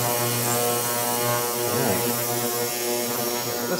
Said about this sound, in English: This is my second ultrasonic cleaner